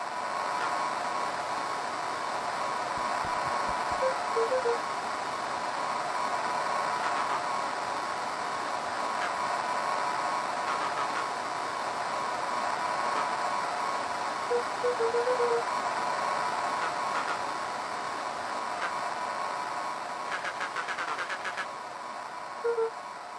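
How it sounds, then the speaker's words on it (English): Walkie-talkie radio static from the video game Beacon Pines: a continuous, fairly even hiss with faint crackles and a few small tonal blips, lasting throughout without any talking. "But some words were still just static."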